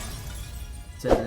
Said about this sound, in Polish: Ale jeszcze zanim sobie dalej popchamy, to oczywiście skrzynkę rozwalimy.